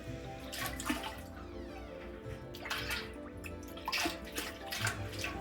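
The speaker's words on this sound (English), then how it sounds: "we are going to add in all of that ginger juice." Ginger juice pours into a chanko nabe hotpot with a soft, continuous liquid splash and trickle, faint and close, with a few small clinks and drips.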